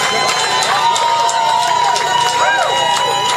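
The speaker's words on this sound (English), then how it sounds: "Let's give Jacob a round of applause for making it out here tonight." A concert audience applauds and cheers for a performer, producing a loud, dense, continuous roar of crowd noise with whistle-like tones rising through it.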